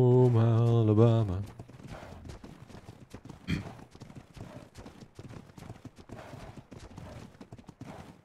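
Horse hooves clip-clop in the ARK Ragnarok survival game, a quick run of steps following a tonal in-game sound at the start, with a louder thud partway through.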